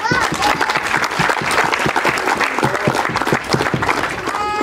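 Sustained applause from a crowd at a Thanksgiving gathering honoring a committee, dense steady clapping filling the whole stretch with a voice carrying over it.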